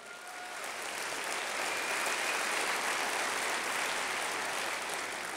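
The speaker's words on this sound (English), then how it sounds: "a big round of applause for making our port work" Steady applause from an audience at a State of the City address, rising quickly from quiet into an even, dense wash of clapping that holds throughout, heard from a distance and without speech.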